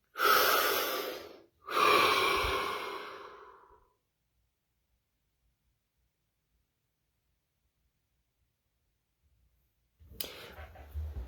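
A deep breath: two long, loud breathy sweeps, an inhale and exhale in the first four seconds, then near silence before a faint rustle at the end.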